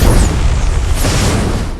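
A roadside IED blast in a war film rendered as a loud, sustained roaring rumble with dense low-end wash and no clear attack, filling the whole stretch without letting up.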